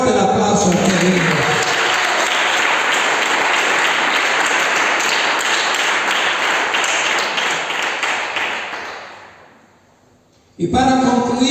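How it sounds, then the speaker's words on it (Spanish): A church congregation bursts into loud, dense applause lasting about eight seconds, then fades quickly away before a voice resumes speaking at the end. "Fuerte el aplauso a este libro."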